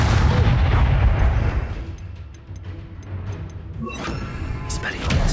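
An Expulso blasting spell in Hogwarts Legacy erupts in a loud, booming explosion that rumbles and fades, followed by crackling debris and further impacts during combat.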